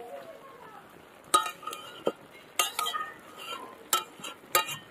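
Cabbage and pakal fish are stirred in a pan, with a spoon scraping and clinking against the metal in irregular close bursts over a soft, quiet background.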